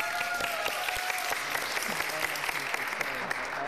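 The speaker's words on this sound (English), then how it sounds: "Again, a round of applause to all of yourselves." Steady applause from an event audience for competition winners, many hands clapping in a dense, unbroken wash, fairly loud and close throughout.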